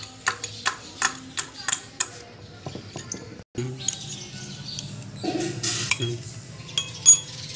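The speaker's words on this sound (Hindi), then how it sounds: "ये चार नट लगे हुए हैं, ये हम खोलते हैं पहले जल्दी से" Wrench work on the four nuts of a submersible pump coupling: a run of evenly spaced metallic clinks and ratchet ticks, then scraping and rattling metal, close by, with someone talking partway through.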